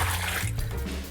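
Hot pasta water pours out of the pot while tagliatelle is drained, a brief, loud, broadband splashing rush that lasts about a second.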